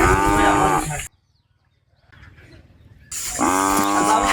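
At a cattle market a cow moos loudly and close by, twice, with a short pause of near silence and faint rustling between the two calls.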